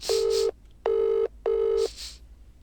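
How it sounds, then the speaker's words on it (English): Three steady electronic phone tones, evenly spaced and loud, as a number is dialed in a video game, with fainter softer tones between them. "I take my phone off my pocket and decide to call her."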